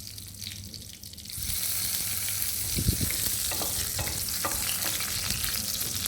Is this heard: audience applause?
no